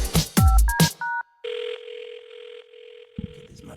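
A telephone line tone plays while a call to Mike Love is being placed, following a few short dialing beeps and clicks; a steady held tone then continues, with brief handling noise near the end.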